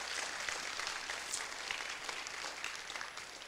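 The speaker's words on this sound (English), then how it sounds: "So let's give a round of applause to our media people as well." Quiet, steady clapping from an audience at an elementary school program, a soft continuous patter at a moderate distance with no clear voices over it.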